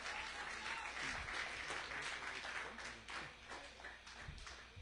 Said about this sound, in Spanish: Denle una ofrenda de aplausos